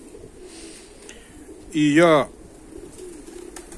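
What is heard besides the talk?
fighting pigeons cooing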